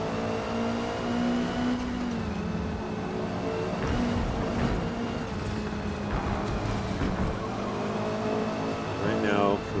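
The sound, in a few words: Honda Civic race car engine in Forza Motorsport video game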